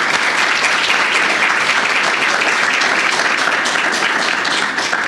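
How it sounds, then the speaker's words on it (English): A conference audience gives loud, sustained applause for its guest speakers, many hands clapping in a thick, unbroken roar that stays strong for about five seconds. "let's give them all a big round of applause and a big thank you"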